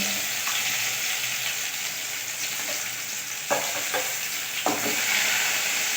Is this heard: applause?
no